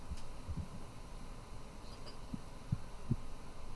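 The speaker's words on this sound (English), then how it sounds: "That heartbeat sound?" Faint, low heartbeat thumps pulse irregularly over a steady background hum, a few soft throbs spaced roughly half a second apart, quiet and muffled with no voices.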